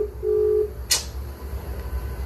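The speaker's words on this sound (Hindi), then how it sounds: "कॉलिंग हो रहा है तो रिंगिंग हो ही नहीं रहा है" A phone placing a call gives a short, steady electronic tone that stops abruptly, followed by a sharp click and a low background hum.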